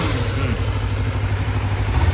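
A small motorcycle engine, a Honda CBR250RR or Kawasaki ZX-25R four-cylinder 250, runs steadily at idle, loud and close, with a smooth, even drone and light clatter.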